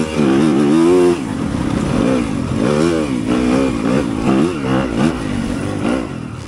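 A 2023 Yamaha YZ250FX dirt bike and other bikes rev hard at a harescramble race start, loud rising and falling engine whines sweeping up in pitch as they accelerate away.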